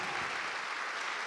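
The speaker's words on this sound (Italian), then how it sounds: "quindi fatevi un applauso tutti" Audience applause at an Italian singing competition evening fills the room, a dense, even wash of clapping that carries steadily throughout without pause.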